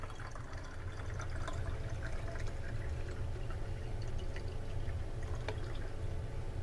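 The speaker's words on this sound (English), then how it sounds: "I'm going to keep pouring water in it" Water poured steadily into a container held about a centimeter from a capacitive proximity sensor, a continuous soft liquid splashing and gurgling at close range with no speech.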